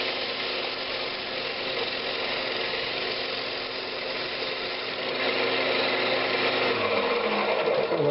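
A lathe spins a walnut hollow form while a foam sanding pad works its inside, giving a steady, fairly quiet motor whir with a faint rough rubbing texture that grows a little louder near the end.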